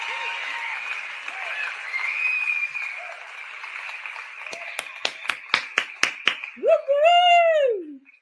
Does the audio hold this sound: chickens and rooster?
no